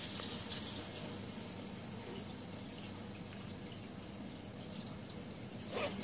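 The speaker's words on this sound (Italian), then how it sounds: "facciamo girare a vuoto la macchina per far sciacquare la vasca" An Omniwash glass washer runs empty to rinse its tub, giving a faint, steady wash of splashing water and machine hum with a high whine, continuous throughout.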